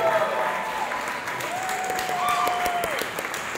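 Applause from the crowd at a Russian swing dance competition, a boogie woogie final, with steady dense clapping held throughout and faint tonal music or voices weaving underneath.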